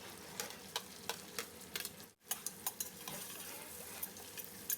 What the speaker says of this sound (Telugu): పచ్చిమిర్చి కూడా వేసేసి కొంచెం ఆయిల్లో ఫ్రై అవనిద్దాము ఇప్పుడు అలాగే ఆనియన్స్ కూడా వేసేద్దాము